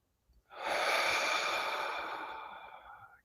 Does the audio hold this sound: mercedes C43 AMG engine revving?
no